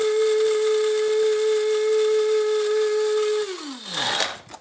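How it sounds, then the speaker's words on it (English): A coffee grinder grinds coffee beans for an AeroPress brew: a steady, loud high-pitched motor whine that holds for several seconds, then winds down and drops in pitch as it stops. Nobody speaks. "I'm gonna grind the coffee now."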